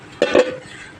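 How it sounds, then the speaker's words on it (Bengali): A lid comes off a pot of braising meat in a village home kitchen, making one brief clattering metallic clink that rings a moment, then fades into quiet. "ঢাকনাটা খুলছি বন্ধুরা, দেখুন"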